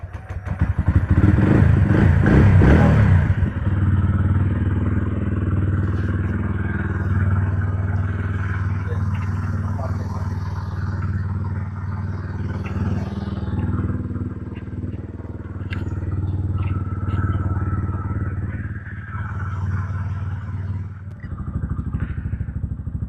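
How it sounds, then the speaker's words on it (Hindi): Motorcycle cold start in Old Manali, a loud burst of starting clatter followed by a steady, chugging warm-up idle that continues close by for about twenty seconds. "अब थोड़ा सा बाइक को कोल्ड स्टार्ट कर लेते हैं।"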